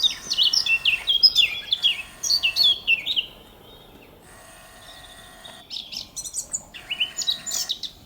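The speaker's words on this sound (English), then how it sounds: "Oh, there's the crows coming back." Chirpy bird calls come from a crows' nest as the birds fly back to it, in bursts of repeated calls that drop into a quiet gap and then start again.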